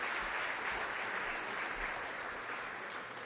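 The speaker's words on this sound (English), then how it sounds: "Give her a round of applause." An audience at an agricultural awards ceremony applauds a regional participant with steady, moderately distant clapping that holds for a few seconds and tapers slightly.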